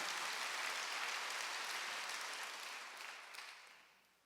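A church congregation applauds during a Wednesday worship service, a dense, steady clapping that holds for a few seconds and then fades away toward the end.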